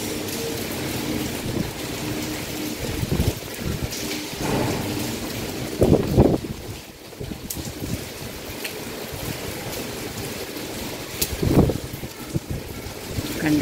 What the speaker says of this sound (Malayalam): കണ്ടോ പെയ്തുകൊണ്ടിരിക്കുന്നത്